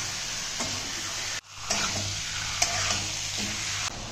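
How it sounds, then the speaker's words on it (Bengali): Meat stirred and frying in spiced oil in a pan, continuous sizzle with scraping stirs, a brief break partway through, close and moderate in level without talk. "এখন দিয়ে দেবো মাংস। মাংসটা দিয়ে খানিকক্ষণ কষিয়ে নেব।"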